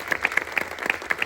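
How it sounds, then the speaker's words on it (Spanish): A live podcast event audience applauds a guest, a short burst of lively, uneven clapping from a crowd in a room. "Un aplauso para él."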